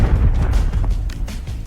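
Deep booming explosions roll and rumble in a shooter video game, a loud continuous barrage with overlapping blasts.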